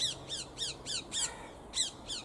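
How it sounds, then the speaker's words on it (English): A parakeet squawks repeatedly in a garden, giving seven or so sharp, harsh calls in a steady rhythm, moderately loud against faint background noise. "Parakeet on cue."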